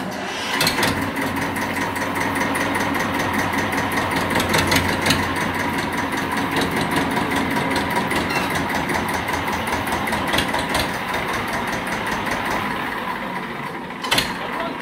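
A 2003 TAFE 25 DI tractor engine runs at idle with a steady mechanical clatter and low rumble, fairly close, and a few sharp knocks stand out along the way.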